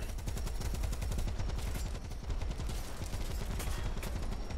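Rapid, dense gunfire from the War Thunder tank game rattles on continuously, loud and close, with bursts overlapping through the whole stretch.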